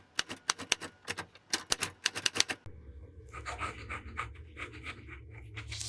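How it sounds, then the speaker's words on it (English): A fountain pen with a soft, fine nib writes yellow ink on 20-pound copy paper in a run of sharp, quick scratching strokes, close and crisp, and then the sound gives way to a broader, softer rustle. "The last writing sample is done on 20-pound copy paper."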